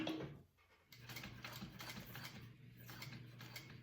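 Sewing machine stitching an X through a handbag strap, a steady close mechanical whir with rapid rhythmic clatter after a brief pause at the start, no voices.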